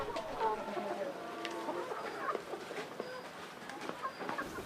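Chickens kept on an organic farm in Africa cluck faintly and sporadically in the background, with a few short, soft calls scattered across a quiet, slightly noisy enclosure.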